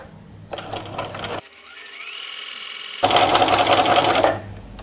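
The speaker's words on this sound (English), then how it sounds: "I'm going to start by sewing my doily pattern onto" A sewing machine stitches a doily pattern onto a diamond-shaped Christmas decoration, running in a short burst of rapid, even clatter, pausing briefly, then speeding up into a louder second burst.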